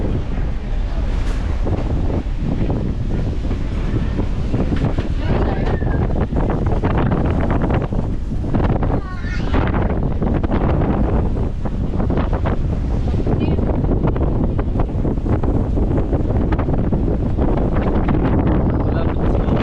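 Strong wind buffets the microphone aboard a boat on a long sea voyage from Bicol to Antique, a constant loud roar with waves and engine rumble beneath and a few faint voices.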